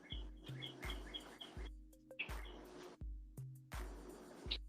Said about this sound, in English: Yeah, the birds are loud, huh?